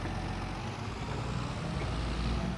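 A tractor engine in a farming video game runs as a steady, low, muffled drone, continuous and even throughout with no other sounds.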